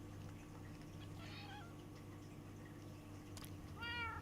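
A cat in the Minecraft video game meowing, two short mewing calls a couple of seconds apart over a quiet, steady background hum.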